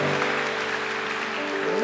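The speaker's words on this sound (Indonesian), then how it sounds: "Tepuk tangan bagi Allah kita." A church congregation claps during a worship service, a brief burst of loud applause over sustained, tonal background sounds.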